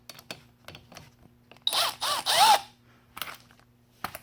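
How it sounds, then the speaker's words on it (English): A power tool undoing a nut on the axle of a Polaris Sportsman 90 ATV gives two or three short, loud whirring bursts in the middle of the clip, with quiet clicks and handling noises before and after. "undo this nut"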